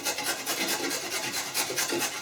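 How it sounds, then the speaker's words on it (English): Carrots rasped up and down on a coarse grater for coleslaw, producing loud close rhythmic scraping strokes, roughly four or five per second, with nothing else heard. "So I'm going to use the coarse grater for this."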